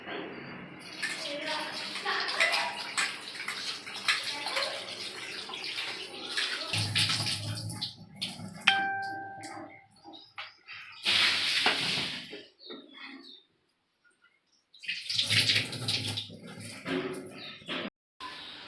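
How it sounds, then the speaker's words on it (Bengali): Mutton pieces being washed under running water, a broadband splashing wash in several bursts with gaps of near silence between them, over a steady low background. "এবারে ধুয়ে নিচ্ছি।"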